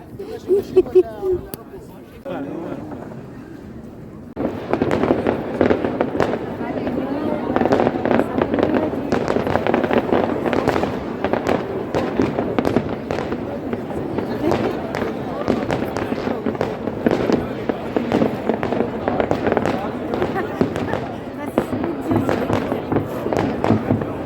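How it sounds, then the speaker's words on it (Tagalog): New Year's Eve fireworks bursting in a steady, dense barrage of booms and crackles, loud and continuous after a quieter opening, with crowd chatter underneath. "So tapos na kami doon guys nanood ng fireworks guys."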